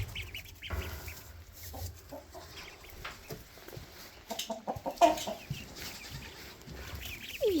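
Chickens cluck softly and intermittently inside a barn, close by, with scattered scratching and shuffling sounds from the birds and no talking.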